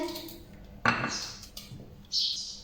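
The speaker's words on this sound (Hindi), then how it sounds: "प्याज को आपने बिल्कुल बारीक कट करना है।" Kitchen knife chopping onion finely for meatball kofta, a few sharp clicks and scrapes of the blade on the board, separated by pauses, with faint sounds of handling in between.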